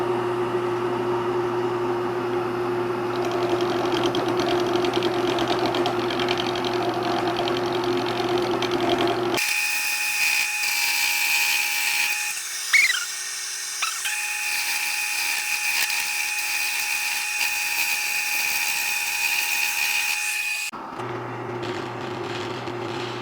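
A dust extractor runs steadily beside power-carving of a wooden fermenting paddle, a constant whine and hum that shifts in pitch mid-way as the carving tool cuts in, loud and close with no talk.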